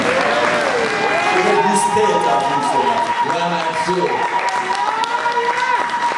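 A church congregation applauds and cheers for Jesus, with steady clapping and voices forming a loud, continuous crowd roar alongside singing-like vocal tones throughout.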